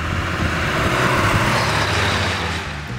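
A 1954 Kaiser Special with its six-cylinder engine floored on the road, a steady, full engine and road roar that holds level for a few seconds and eases slightly at the end, with no voices.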